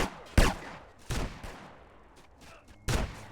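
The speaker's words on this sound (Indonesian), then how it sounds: "Ya gua ikutan tembakan." Three sharp, loud gunshots in GTA San Andreas multiplayer ring out at uneven intervals, each with a short echoing tail, against a quiet background.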